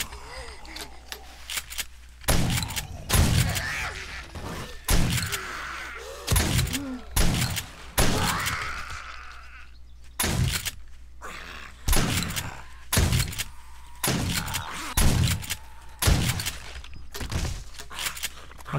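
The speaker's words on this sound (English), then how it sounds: "let's do it with the shotgun and make it a little easier" Heavy shotgun blasts fired at a spider zombie in 7 Days to Die, a dozen or so loud, booming shots spaced irregularly a second or two apart, with creature noises and movement between them.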